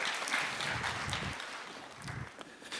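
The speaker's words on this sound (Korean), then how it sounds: "하나님께 영광의 박수 올려드리겠습니다" Congregation applause at a church youth worship service, a dense sustained wash of many hands clapping together, fairly even in level throughout with no voices standing out.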